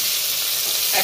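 Fish frying in a pan during home cooking of a fish curry, a steady close sizzle with a faint stirring scrape near the end, no voices.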